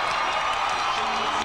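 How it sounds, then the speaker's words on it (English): A packed arena crowd at Madison Square Garden during a volleyball match cheers in a loud, continuous roar that holds steady without a break. "Look at the crowd in Madison Square Garden"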